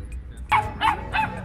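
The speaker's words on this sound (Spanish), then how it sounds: "aquí están casi todos los perritos que vienen a visitar a Pashminas" Several small dogs barking in a park where people bring dogs to visit, three loud close yips in quick succession after a brief quiet start.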